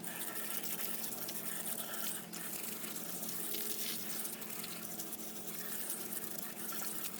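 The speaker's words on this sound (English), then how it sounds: "so let's go ahead and wash it off" Water sprays steadily over a freshly sanded car part before painting, a continuous hissing, splashing wash that stays loud and even throughout with no pauses.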